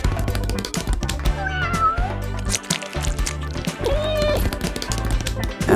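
Several cats meow over a busy backdrop of game music and sound effects, with cartoonish mews popping up at intervals.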